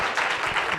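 Short burst of applause from a congregation at a Sunday church service with a children's performance, a dense, steady patter of many hands, moderately distant.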